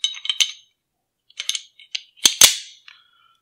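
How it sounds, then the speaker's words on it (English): Metal parts clicking and sliding together as the barrel goes into an IWI Masada pistol: several sharp close clinks and scrapes in two clusters, ending with two louder snaps. "So then we take the pistol, we insert the barrel,"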